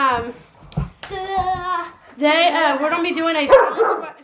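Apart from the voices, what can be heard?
dogs barking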